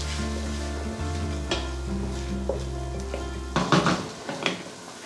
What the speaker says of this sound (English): we're just going to cook this, stirring occasionally for a few moments, just until the onion's softened and has begun to become translucent